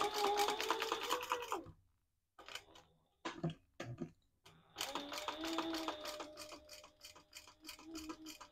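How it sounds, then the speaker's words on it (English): A sewing machine runs in bursts while top stitching a strap connector piece on a sling bag, rapid close mechanical ticking with short pauses and a few quieter clicks between runs. "I'm top stitching around just this top strap connector piece"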